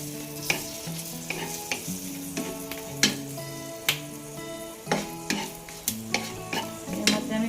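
Whole tempering spices stirred and fried in hot oil in a pan for paneer butter masala: a close, continuous sizzle punctuated by regular sharp scrapes and knocks of a spatula against the metal pan.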